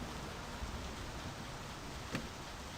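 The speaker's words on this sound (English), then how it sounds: "And it's raining." Rain falls steadily in the driving game My Summer Car, a soft even hiss with a faint patter and one brief knock, no voices over it.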